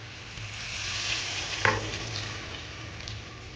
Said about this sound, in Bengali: তো এবার আমি অল্প করে জল দিয়ে দেব।